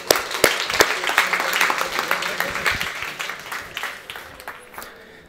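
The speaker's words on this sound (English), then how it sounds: "Daan, warm applause, please." Warm applause from a conference audience welcoming Daan Lucas, founder of Random Studio, onto the stage: dense clapping swells, holds steady, then thins out and fades toward the end, with a few voices mixed in.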